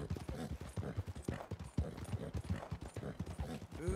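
Quick, rhythmic brushing strokes scrub repeatedly over a horse's coat in the video game Red Dead Redemption II, soft and close, with a faint scraping texture.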